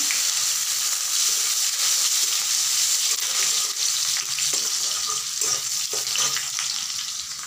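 Chopped onion frying in hot oil in a pan for a Bengali-style potato curry, a loud steady crackling sizzle with a few scraping stirs near the end.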